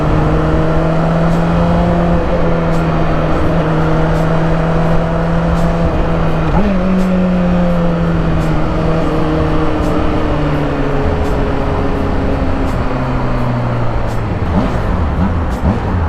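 A Honda CBR600RR motorcycle engine drones steadily while riding, its pitch holding and then shifting as the rider changes speed. It stays loud and continuous with a brief dip near the end, and no one speaks.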